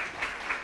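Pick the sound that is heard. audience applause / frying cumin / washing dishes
audience applause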